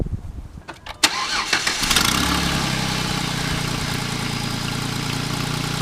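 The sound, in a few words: Jeep Wrangler engine starting after spark plug replacement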